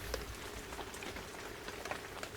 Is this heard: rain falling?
yes